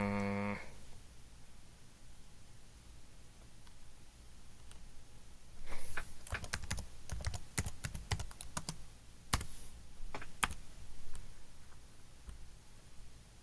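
Quiet room tone, then a burst of rapid keyboard clicks in an uneven rhythm, close by and fairly soft, trailing off near the end.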